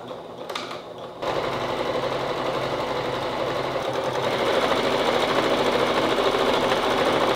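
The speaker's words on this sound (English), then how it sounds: "So I'm gonna make a 1/4 inch seam along the top part of the panel to finish out one edge" A sewing machine runs steadily, stitching a quarter-inch seam along the top edge of a double-sided fabric panel. Its rapid mechanical whir starts after a brief pause and continues loud and even.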